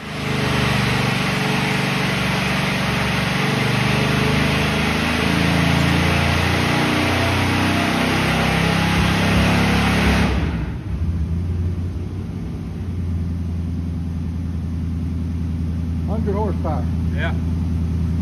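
A Mercury 255 engine runs loud and steady on a dyno, a dense high-revving roar that drops sharply to a lower idle-like rumble about halfway, with brief voices near the end.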